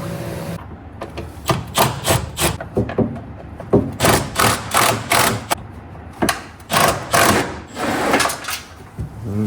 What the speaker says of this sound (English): Sounds like there's some leaves in the blower motor though